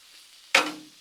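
Meatballs and Lil Smokies hit a hot Blackstone griddle halfway through, bursting into a loud, close sizzle that slowly eases off after a quiet lead-in.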